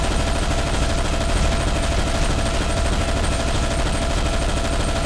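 Rapid, continuous automatic gunfire from the Zombie Shooter 2 video game, loud and dense throughout with no pauses and no talking.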